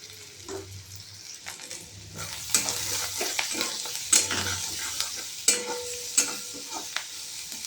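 Onions with turmeric and salt sizzle in a pan while a spoon stirs them, scraping and clacking in irregular bursts over a continuous frying hiss, close and fairly loud.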